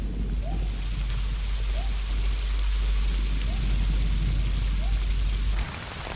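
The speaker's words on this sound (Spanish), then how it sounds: "la tormenta vuelve a descargar con fuerza" Heavy rain pours steadily in a jungle storm at night, a dense, loud, continuous hiss and patter with no break.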